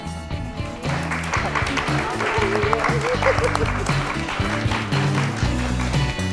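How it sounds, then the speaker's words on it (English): Audience applause at the close of a panel discussion on landscape, memory and the shifting self, a steady sustained wash of clapping from a room of listeners, with voices and low murmuring mixed underneath throughout. "Round of applause."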